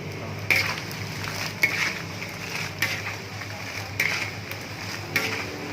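Steady hot-oil sizzling and crackling with sharp pops every second or so as pork skin crackers fry, close by, with no talking.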